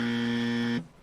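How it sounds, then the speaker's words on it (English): A game-show style buzzer on a sports talk podcast sounds once: a loud, steady electronic drone held for under a second, then cut off abruptly, leaving faint room noise. "Here, hit me with the buzzer."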